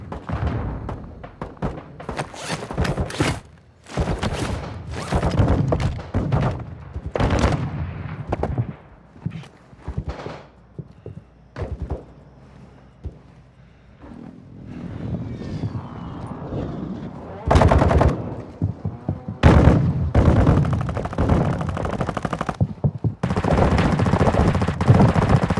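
Dense gunfire from a Call of Duty: Modern Warfare II DMZ match, with rapid automatic bursts, single heavy shots and booming impacts, loud and near, mixed with voices talking between volleys.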